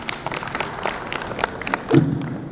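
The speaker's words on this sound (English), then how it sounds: "big clap for all of you" Audience clapping in a room, a loose scattered patter of hands at moderate level, swelling into a louder thump-like burst near the end.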